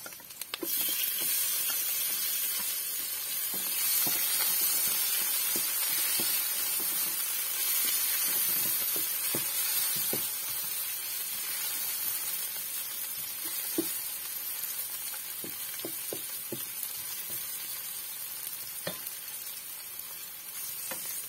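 Chopped tomatoes frying in hot oil in a pan, a loud, continuous crackling sizzle with scattered spatters and light clicks of stirring throughout.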